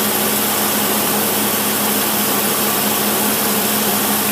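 A car engine fitted with a Carter YF carburetor idles steadily and loudly, a continuous smooth hum with a low tonal drone running without a break from start to finish.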